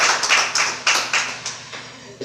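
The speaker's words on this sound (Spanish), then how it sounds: "Denle un aplauso al Señor" Applause from a church congregation during a Spanish-language sermon, heard as a series of loud, distinct clapping bursts in an irregular rhythm that gradually thin out and soften toward the end.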